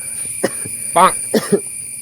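A few short, harsh coughs from a person with a cold, in quick succession, close by and fairly loud, with quiet pauses between them.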